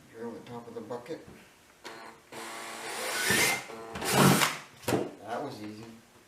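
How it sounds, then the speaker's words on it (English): A drill whirs in short bursts as it bores through the top of a plastic bucket being made into a bee swarm trap, with a person talking between the bursts. "Drill the top of the bucket."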